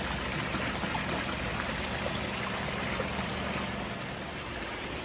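Water flows and trickles steadily in a backyard koi pond, a continuous close rushing wash with no voices, holding an even level from start to finish.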